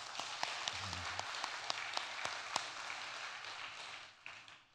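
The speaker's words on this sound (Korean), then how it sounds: "박수 한번 치시죠." Church congregation applause during a Sunday praise service welcoming a missionary: faint, fairly sparse clapping heard from a distance in a large room, with a few sharper individual claps, tapering off near the end.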